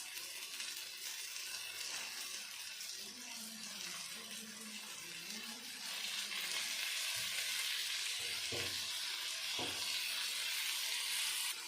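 Spiced fish (lote fish, Bombay duck) frying in a pan of sautéed spices, a steady broadband sizzle that grows louder partway through, with a few soft knocks near the end and no talk.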